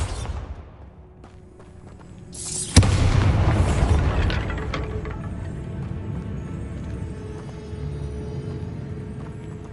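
Bombarda spell explosion in Hogwarts Legacy, one sudden loud boom that swells and then rumbles away over several seconds.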